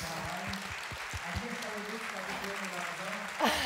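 Quiet applause from an audience at a Polish debate event, steady and low in level, with faint voiced sounds beneath it and a brief louder rustle near the end.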